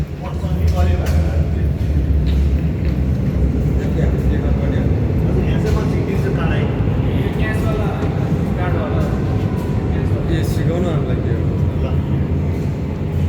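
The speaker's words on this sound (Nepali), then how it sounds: "ए यो सबै अन्डरग्राउन्ड मेट्रो चाहिँ अन्डरग्राउन्ड" An underground metro train runs with a steady, loud low rumble and rolling noise throughout, while people talk faintly in the carriage.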